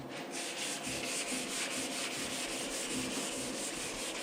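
A fine abrasive sponge rubs steadily over a Lambretta scooter body panel, a continuous close scratchy sanding with soft rhythmic strokes and no talking.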